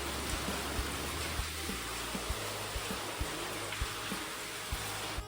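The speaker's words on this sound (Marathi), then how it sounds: "भयंकर पाऊस सुरू आहे." Heavy rain pours steadily outside on a cold evening, a dense continuous hiss with faint drips and taps on surfaces, loud and unbroken throughout.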